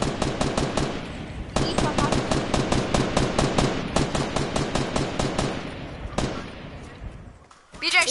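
Rapid automatic gunfire in an online video game duo match, with long bursts of sharp, loud shots and a few separate single cracks, heard up close while players talk over it.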